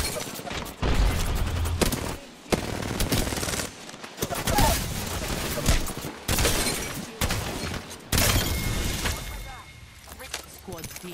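Dense bursts of Apex Legends gunfire, sounding like shotgun blasts, come in repeated loud volleys broken by short silences, with a player talking over the shooting.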